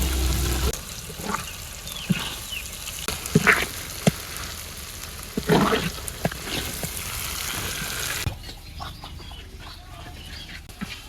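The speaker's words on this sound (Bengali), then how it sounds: "আমি কচু শাক বাগার দিয়ে দেই।" Taro leaves hit a pan of hot oil in a village kitchen with a broad, crackling sizzle that runs throughout. Birds and chickens sound faintly in the background, and the noise drops sharply near the end.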